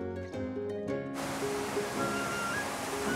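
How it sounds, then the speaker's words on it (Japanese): Water flows steadily inside the Akiyoshi limestone cave, a broad continuous rushing wash that follows a short stretch of music. "いやでも水の音が"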